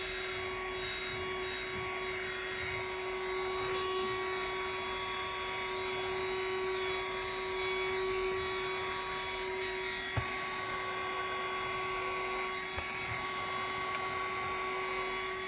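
Vacuum cleaner running with strong suction on a dusty carpet, a steady faint hum with a constant tonal whine and a few small clicks, unchanging for the whole stretch.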